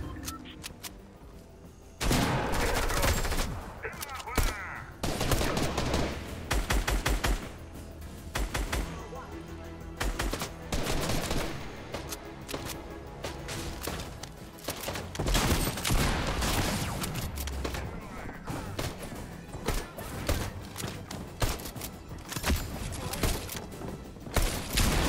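Rapid weapon gunfire fills a Fortnite-style video game battle, dense bursts and fusillades of shots crackling loudly and almost continuously, with talk heard over it.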